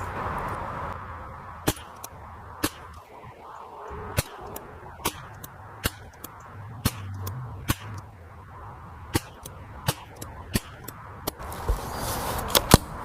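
A custom Ruger 10/22 rifle with a 24-inch Green Mountain barrel fires a ten-round group, sharp evenly spaced cracks, about a dozen over several seconds, outdoors against faint background noise.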